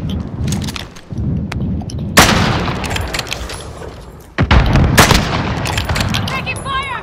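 Shooter video game gunfire with sharp bursts and booming hits, including two loud blasts partway through, over a continuous battle din with a voice heard faintly in the mix.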